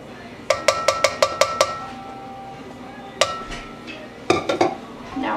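Batter for red velvet brownies is mixed in a bowl, a utensil striking the bowl in a quick run of about seven sharp clinks, then a pause and further scattered knocks and scrapes, close and loud.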